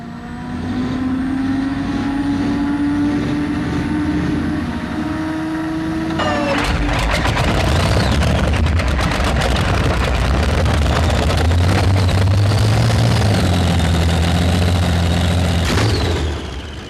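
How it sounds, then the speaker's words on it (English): A modified pulling tractor powered by V12 Allison aircraft engines drones loudly at a 1994 tractor pull, then bursts into a thunderous, crackling roar that holds at full power for about ten seconds before easing off. "the V12 Allison engine tractor has become a very popular machine on the modified circuit"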